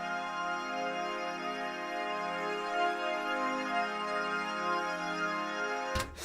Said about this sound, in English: Flare is basically a flanger, and it sounds like this.